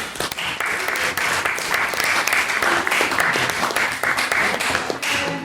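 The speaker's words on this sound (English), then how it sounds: "Can we give him another round of applause for his meeting speech?" An audience applauds a speaker after his closing argument at a school debate on banning artificial intelligence, with steady, dense clapping from many hands held at an even loudness throughout.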